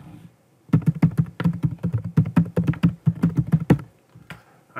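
Fast, close computer-keyboard typing enters an email address in bursts of crisp keystrokes, then stops briefly with a couple of final taps.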